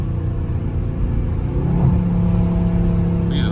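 Dodge Scat Pack rolling through traffic, its engine a steady loud rumble with a brief rising rev note partway through as it downshifts, heard from inside the car with wind noise.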